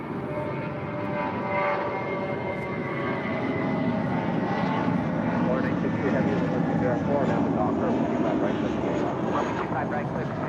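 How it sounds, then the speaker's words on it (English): A United Airbus A320 departs LAX for Los Cabos, its engines a continuous rumbling roar in the background while people talk over it. "That was United 1185 departing to Los Cabos on an A320."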